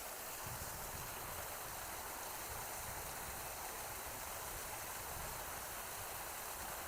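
Water flows out of a creek on a walk through Regina, a constant, broad rushing hiss that holds at an even, moderate level throughout with no voices.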